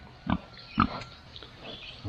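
Pigs on a farm give two short, close grunts a half second apart, followed by softer snuffling grunts in the background.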